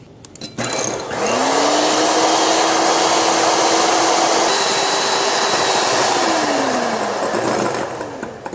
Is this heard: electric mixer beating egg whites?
yes